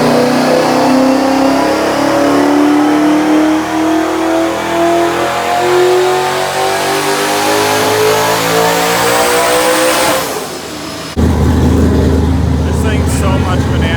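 A Nissan 180SX engine revs hard on a dyno, pitch climbing steadily for about ten seconds before cutting off, then a lower rumbling idle continues; loud and close.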